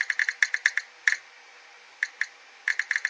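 Typing with two hands on a keyboard connected through a Samsung USB adapter: quick, crisp key clicks in short bursts, close and clear, with a pause in the middle before the tapping resumes.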